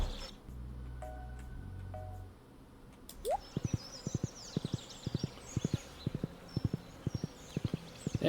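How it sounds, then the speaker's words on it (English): A horse clip-clops in Stardew Valley, a crisp, regular run of hoof taps starting a few seconds in after a low hum and some soft game blips, close and clear with nothing talking over it. "I also just really love the sound effect of the horse clip-clopping."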